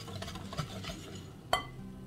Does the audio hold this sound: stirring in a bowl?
yes